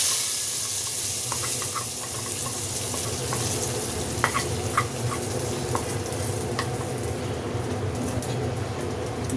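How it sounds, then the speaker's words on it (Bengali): Cumin seeds tempering in hot oil for a mung dal and jute leaf dish, a steady close sizzle and crackle running the whole time with a few sharper pops, no voices. "একটুখানি জিরা দিচ্ছি। এখন আমি এটাকে বাগার দিই।"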